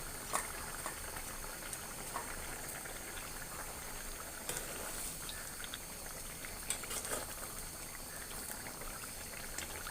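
Broth of sweet potato leaves with small tengra fish and chopped coriander bubbling steadily in a pot, a constant soft simmering hiss with scattered faint pops and no voices.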